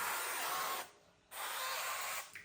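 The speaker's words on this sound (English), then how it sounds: "a spray can make it easier to use less oil" Two hissing bursts of cooking oil spray from a spray can onto aubergine, each lasting close to a second, separated by a brief pause, fairly close.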